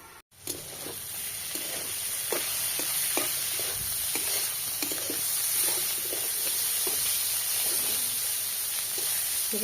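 Potatoes fry in oil in a pan, a continuous loud sizzling hiss with intermittent scraping taps from stirring, close and steady throughout.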